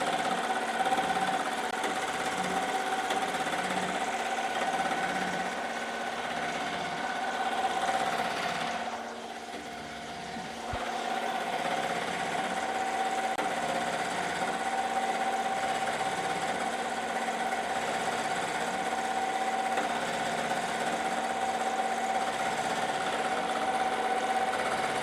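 An embroidery machine stitches zipped hoodies in a steady mechanical hum with a rapid, even chattering rhythm. The sound runs continuously for about 25 seconds, with a brief dip near the middle, and no voices.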